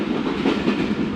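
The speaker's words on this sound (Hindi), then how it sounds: "और खानेवाल से निकली हमारी ट्रेन" Passenger train pulling out of Khanewal station, a continuous close rumble of wheels and carriage noise with faint rhythmic clatter, no voices.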